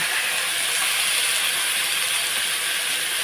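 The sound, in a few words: bottle gourd leaves added to hot oil, sizzling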